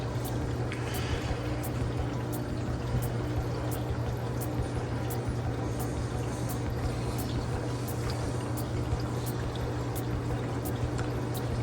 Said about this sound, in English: Let that go until I got water coming out on this side